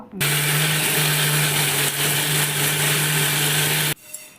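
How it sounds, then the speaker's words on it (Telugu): A kitchen mixer grinder grinds fresh coconut with tamarind into a spice powder. Its steady, loud motor whir runs without a break for about four seconds and then stops abruptly, with no speech. "మళ్ళీ మిక్సీకి పెట్టేసుకోండి"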